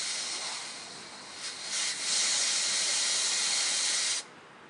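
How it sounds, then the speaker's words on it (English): Air hisses out of the driver's front tire valve stem, a steady close hiss that swells after a couple of seconds and then stops abruptly near the end, with no talk. "We let some air out."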